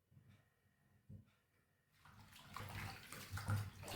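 Running water pours steadily over fresh mint leaves being rinsed, starting faint and swelling into a louder, splashing flow partway through.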